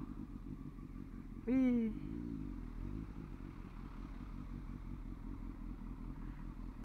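A Honda Hornet CB900 motorcycle engine is heard nearby, with a brief rising rev burst and a steady low engine rumble underneath. A voice briefly exclaims over it.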